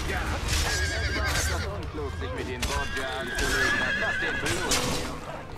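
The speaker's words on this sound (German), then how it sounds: "da musst du ja mehr das Pferd verprügeln als den Typen" A horse in Assassin's Creed Brotherhood whinnies repeatedly with clip-clopping hooves, fairly close, while someone speaks over it.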